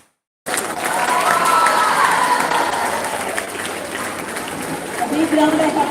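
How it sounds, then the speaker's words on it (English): A college day audience gives a big round of applause for a teacher called to the stage, sustained dense clapping with crowd noise that starts abruptly and holds loud throughout, with some cheering near the end. "A big round of applause to Dayanand sir for producing 18 Central students."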